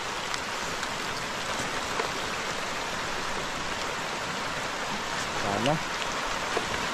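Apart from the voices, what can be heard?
rain falling during a typhoon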